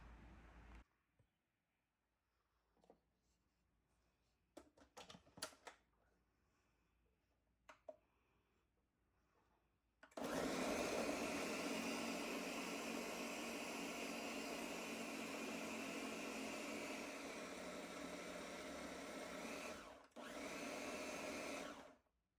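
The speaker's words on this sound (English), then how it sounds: "I'm going to start mincing it" Chicken minced in a food machine for homemade nuggets: a few quiet handling clicks, then a loud, steady motor roar that runs for about twelve seconds with one brief pause near the end.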